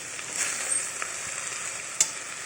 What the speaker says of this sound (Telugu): ఇలా మనము ఫ్రై చేసుకుంటూ ఉండాలి